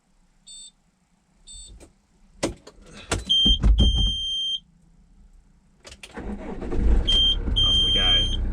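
A campervan starting off on a cold day: a few warning beeps and door or switch clunks, then an engine rumble building as it pulls away, close and fairly loud with a voice briefly heard.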